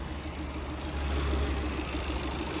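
A 2019 Tata Nexon XM diesel engine idles steadily, a low, even rumble with faint vibration holding close and constant, no voices over it.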